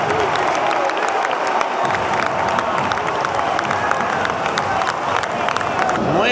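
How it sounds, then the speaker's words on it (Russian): A football stadium crowd roars and cheers continuously after a Dundee United goal against Rangers in the Scottish Premiership, dense and loud with scattered applause. "Половина стадиона ликует"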